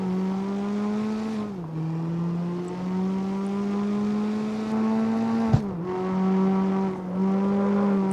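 Prototype drift car engine in the CarX Street racing game, droning as a strong buzzing tone that holds steady, dips briefly twice as if shifting gears, then climbs again, with no talk over it.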